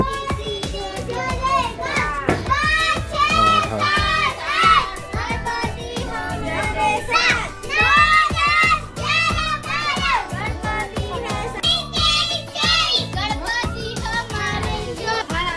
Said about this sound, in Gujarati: ભીડ જોવો યાર